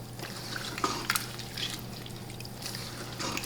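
Broth is poured into a pot for chickpea rice soup, a steady soft trickle of liquid lasting several seconds under a low background hum.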